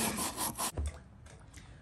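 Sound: knife blade being sharpened on a whetstone

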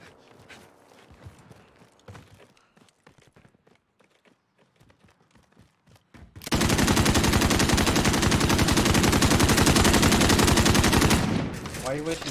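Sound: gunfire from the video game Call of Duty: Modern Warfare

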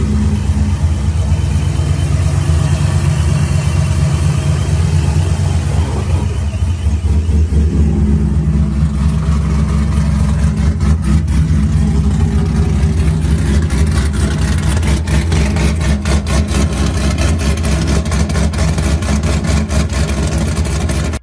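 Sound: supercharged Corvette engine revving

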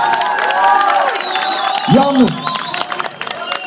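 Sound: concert audience cheering and applauding

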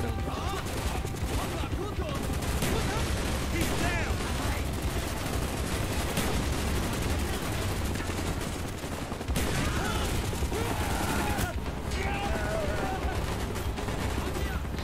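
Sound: gunfire from a gun in video game Call of Duty: Black Ops

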